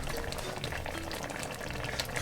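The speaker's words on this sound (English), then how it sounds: "You can see it's nicely bubbling away" Indian fruity lamb neck curry simmering in an uncovered pot on the cooker, a steady, dense bubbling that runs continuously and fairly loud, close by, with no talk.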